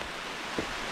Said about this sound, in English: Now it's pouring.